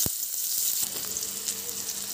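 Chopped onion dropped into hot oil with black cumin, a sharp burst at the start settling into a steady, close crackling sizzle, with no speech.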